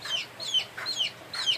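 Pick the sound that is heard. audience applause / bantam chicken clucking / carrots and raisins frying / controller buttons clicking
bantam chicken clucking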